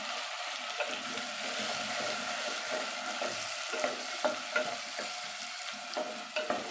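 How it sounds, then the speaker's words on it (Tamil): Brinjal halves, slit open, sauté in hot oil for a goat brain tamarind kulambu, a steady close sizzle broken by scraping stirs and small crackles. "அதோடு சேர்த்து நம்ம எண்ணெயிலே நல்லா வதக்கி எடுத்துக்குவோம்."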